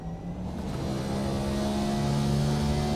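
A NASCAR Next Gen car in a racing video game screams down the straight at Le Mans, its engine revving hard and climbing steadily in pitch, loud and continuous with no voices.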